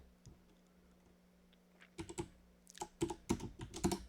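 Someone types a command on a computer keyboard with quick, close bursts of clicking key presses after a quiet pause, ending with a few firm taps.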